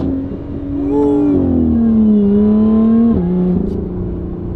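Supercharged Lotus Evora GT engine revving from inside the car with a window lowered, a steady loud drone that climbs and falls in pitch, then drops sharply near the end and settles lower.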